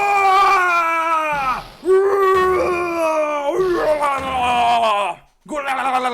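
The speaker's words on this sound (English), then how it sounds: "That scream. I've heard that scream before." A drawn-out, wailing scream from the Phoenix Wright: Ace Attorney game, loud and near, rises and falls in several long anguished bursts separated by short breaks.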